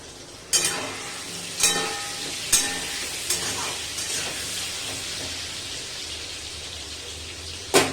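Salted potatoes fry in a pan with a steady close hiss and sizzle, broken by several sharp scraping strokes as they are stirred.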